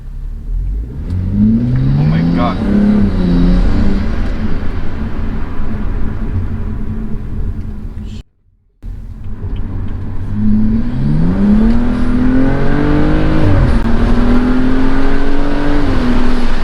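A BMW M235i in sport mode on a test drive revs hard through rising gear pulls, loud and close from inside the car, with a brief break at a shift before it climbs again.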